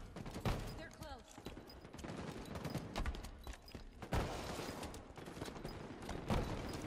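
Rapid gunfire in a multiplayer shooter match on the Plaza map, bursts of shots and sharp bangs layered with game noise, with players talking over the action throughout.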